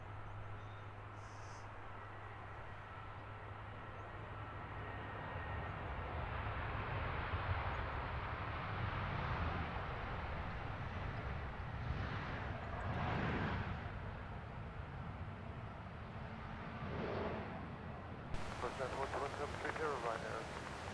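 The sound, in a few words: Ryanair airliner at Stansted Airport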